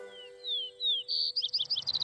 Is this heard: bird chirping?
yes